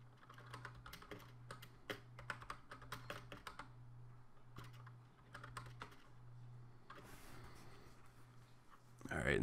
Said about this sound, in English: I'm gonna type in the chat just so it'll come up and you guys can see it